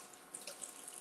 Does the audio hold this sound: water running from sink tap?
yes